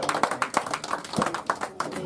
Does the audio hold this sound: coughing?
no